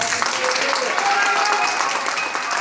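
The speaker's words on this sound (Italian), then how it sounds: "Facciamo un applauso a Carmelo." An audience at a live music show claps for a man called up to the stage, giving a steady, continuous wash of applause mixed with some overlapping voices.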